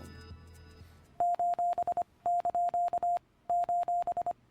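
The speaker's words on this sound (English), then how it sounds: "This is Morse code for a smiley face emoticon." Morse code beeps spelling out a smiley face emoticon, a steady high tone keyed in short and long bursts in several rhythmic groups separated by pauses, clear and close after a brief lower sound at the start.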